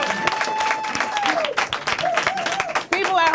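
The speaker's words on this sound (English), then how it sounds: "Give yourselves a round of applause." A studio audience breaks into applause, a dense wash of clapping mixed with cheering voices and a whistle-like tone, lasting the whole moment.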